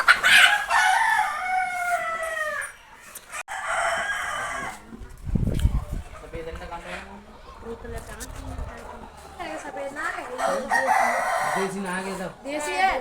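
Rooster crowing with chickens clucking on a farmhouse poultry farm with desi, Aseel and Sonali birds; loud harmonic crows open the clip and recur near the end, with clucking between and people talking throughout.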